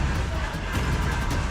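A crowd roars and cheers at a live esports tournament for a mobile game's playoffs, a steady dense wall of noise with no clear breaks.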